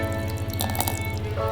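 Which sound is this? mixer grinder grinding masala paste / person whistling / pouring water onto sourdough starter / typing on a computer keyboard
pouring water onto sourdough starter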